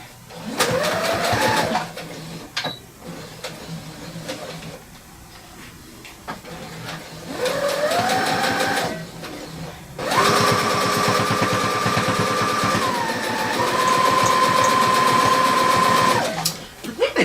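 A sewing machine used for quilting runs in steady whirring stretches, stopping and starting several times, with a voice talking in the gaps and over the motor.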